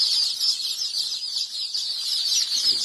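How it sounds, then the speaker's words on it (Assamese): Local chicks at a veterinary shop in a town keep up a dense, continuous high-pitched peeping, many birds cheeping at once, close and steady with no talk. "একদম অৰিজিনাল লোকেল মুৰ্গী পোৱালি"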